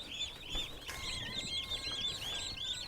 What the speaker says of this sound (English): So we have two groups of turkey chicks, standard bronze and broad-breasted bronze.